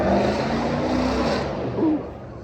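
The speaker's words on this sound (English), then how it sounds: "before that loud exhaust interrupted me" A loud, rumbling vehicle exhaust roars steadily, then swells briefly with a rising rev before settling back down.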